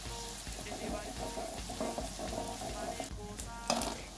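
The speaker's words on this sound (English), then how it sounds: "we are going to add the cooking oil to the saucepan, and after that I add there some onions. Yes, let's fry the onions." Onions frying in cooking oil in a saucepan for a fish stew, a close steady sizzle with light stirring and a brief sharp clatter near the end, no talking.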